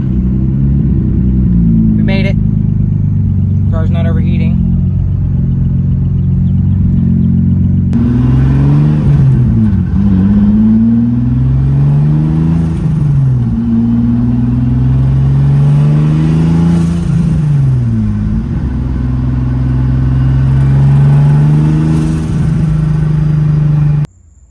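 Mazda MX-5 NB fitted with a swapped Nissan VQ engine, driving steadily with a loud, continuous engine drone that rises and falls with throttle, close and constant throughout, briefly quieter before the engine note takes over.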